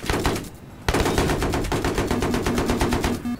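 Loud, rapid automatic gunfire from Battlefield 3 rattles in steady bursts, pausing briefly before a long, continuous volley resumes close and dominant.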